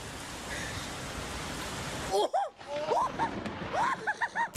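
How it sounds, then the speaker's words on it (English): Hail and rain pelting down during an intense Texas hailstorm, a steady dense roar of falling ice and water, close and loud, with brief voice-like sounds breaking through in the second half. "This hailstorm in Texas was so intense that the hail started coming inside the home."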